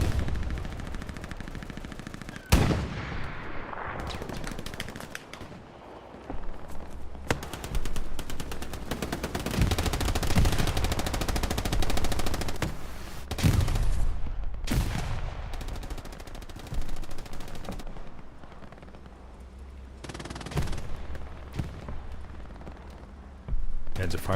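Panzer tank and machine-gun fire in a D-Day battle in a console video game rattle in long sustained bursts with heavy booms, under nearly constant talking.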